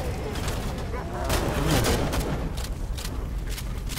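Rapid gunfire rattles in the video game Raiders of the Broken Planet, a dense burst of shots and booms running through the whole moment, loud and close.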